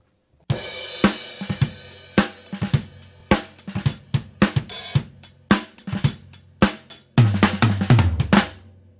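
A drum kit, recorded with only two Sound Deluxe U95 microphones, plays a steady beat of sharp snare and kick hits with cymbal wash, ending in a busier fill of rapid strikes.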